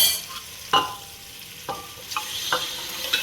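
Pieces of mutton sizzle in a tomato masala base as a spoon stirs them, giving a soft continuous fry with several sharp scraping clacks spaced irregularly, fairly quiet and close, with no voices.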